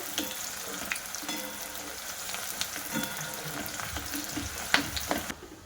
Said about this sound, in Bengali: তেলের মধ্যে একটু লাল লাল করে ভেজে নেবো